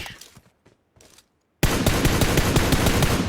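Dense automatic gunfire in the mobile battle-royale game PUBG Mobile, a loud sustained burst of rapid shots lasting nearly two seconds after a stretch of sparse quieter sounds.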